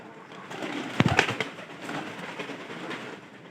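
Pigeons in a home loft where a newly paired bird sits near its chicks give soft, faint coos and flutters, with a brief louder burst near the start against a quiet background.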